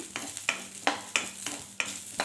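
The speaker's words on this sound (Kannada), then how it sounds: "ಹಸಿ ಮೆಣ್ಸಿನ್ಕಾಯಿ ಹಸಿ ವಾಸನೆ ಹೋಗ್ಲಿ ಅಂತಂದು ಹುರ್ಕೋತೇನೆ ರೀ ನಾನು. ಸ್ವಲ್ಪ ಎಣ್ಣೆ ಹಾಕಿ ಹುರ್ಕೋಬೇಕ್ರಿ." Green chilies frying in a little oil, with a steady sizzle under regular scraping stir strokes about every third of a second, close and fairly loud, no talk.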